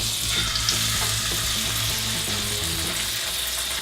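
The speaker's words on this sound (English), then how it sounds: "So I'm just gonna crack my egg right into the pan" An egg fries in butter in a hot pan, giving a steady, close sizzle with fine crackles that carries on without a break and with no voices.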